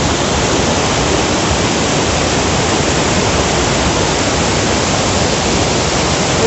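A waterfall at Ramling Bet in Sangli roars as a dense, steady wash of rushing water, loud and close, unbroken for the whole stretch with no voices.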